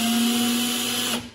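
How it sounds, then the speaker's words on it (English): An electric drill whirs steadily with an old tool spinning in its chuck, a close, even motor whine that cuts off and winds down at the end. "you just chuck your old tool up into a drill"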